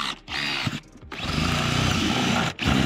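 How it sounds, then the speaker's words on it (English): A power drill whines loudly as it drills out pop rivets on an RV compartment door. The motor revs in short bursts with brief pauses, close up and without talk. "and then start drilling."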